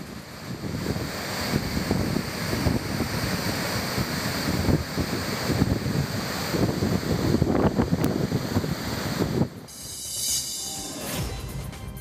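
Water pours through 11 crest gates of the Linganamakki dam, releasing 27,000 cusecs in a loud, continuous roaring rush with some wind buffeting. The roar drops and thins toward the end.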